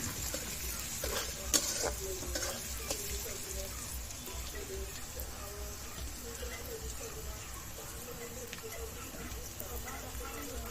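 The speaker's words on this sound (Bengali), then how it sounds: "পেঁয়াজ তো ভালো মতো ভাজা হয়ে গেছে।" Onions and green chillies fry in a pan with a steady, even sizzle and occasional stirring clicks, heard close and continuous throughout.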